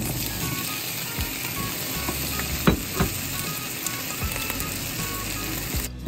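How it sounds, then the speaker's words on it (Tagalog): Vegetables and potatoes frying in a pan, a continuous crackling sizzle with a few sharp clanks of a utensil against the pan midway and near the end, no talking. "So yan, piprito natin yung mga gulay"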